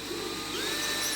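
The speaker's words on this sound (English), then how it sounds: "we're going to use the lovely drill tap" Drill tap cutting a thread into a pilot hole in metal for a steampunk weather forecasting machine, giving a steady close grinding whir with a faint rising whine throughout, no talk.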